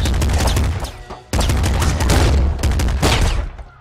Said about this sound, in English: That is actually a flak cannon. That type of damage where it shoots a ball and then splits it.